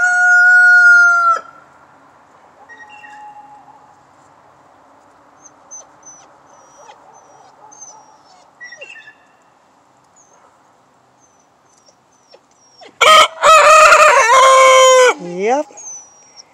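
A rooster crows loudly at the start and again near the end with a long, strained call, while softer hen clucks and faint bird sounds fill the quiet middle of a backyard coop where hens are laying eggs.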